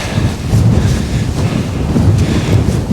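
Strong wind of about 30 mph on a mountain at Blencathra, roaring loud and steady against the microphone in continuous buffeting gusts with no voices.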